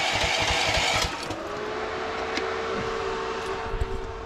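Small engine of a Temu mini skid steer throttling up, a steady mid-pitched running drone that rises and holds, close and alone without speech.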